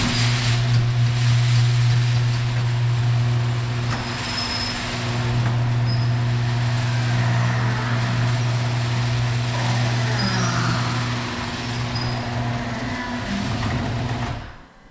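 Jeep Wrangler 4xe fitted with a winter front is driven, heard from inside the cabin as a steady low droning hum that swells and eases slightly for most of the stretch, then cuts off at the end.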